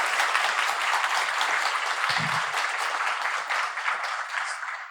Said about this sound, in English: big round of applause for Vladimír.